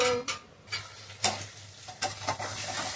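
A spoon stirs tomato sauce in a pan with scattered scraping knocks over a low, steady sizzle, close and fairly quiet, with no voices.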